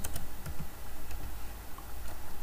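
Formula being typed on a computer keyboard into an Excel spreadsheet cell, with a soft run of close, light key clicks spread across the moment and no talking.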